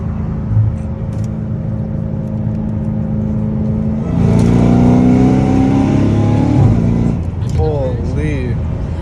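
A catless Dodge Hellcat Redeye cruises on a highway with a loud, low engine drone, then its revs climb in a hard, rising pull before easing off. A voice is heard over it.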